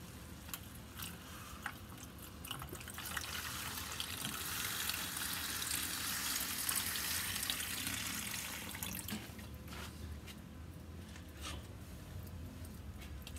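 Water poured slowly into a very hot charcoal tray of a rotisserie grill, giving a steady hissing, sizzling wash that swells in the middle and eases off, close and continuous with no talking.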